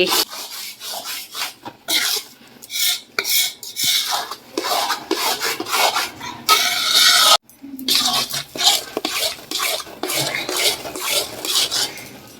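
Khoya (mawa) is worked into roasting flour in a pan for Gujarati adadiya, giving loud, rhythmic scraping and rubbing strokes of a spatula against the metal, broken by brief pauses.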